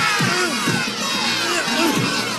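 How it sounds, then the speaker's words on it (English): Kids on a bus scream and shout all at once, a loud, dense crowd of high voices with rising and falling yells, close and continuous. "the kids in the bus, they're all screaming"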